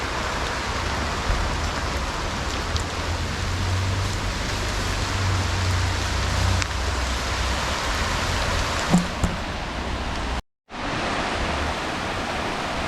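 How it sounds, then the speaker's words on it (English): Steady rain falls beside a river in a continuous broadband wash, dense and even, with a brief drop-out near the end before the patter resumes. "Like right now it's raining"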